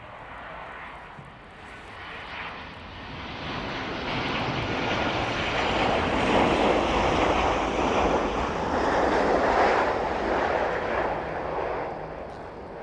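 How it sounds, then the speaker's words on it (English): A Ryanair airliner arriving from Rome lands at East Midlands Airport in light wind, its engines a broad roar that swells and holds loud through the middle before easing slightly. "Smooth touchdown from the Ryanair service in from Rome."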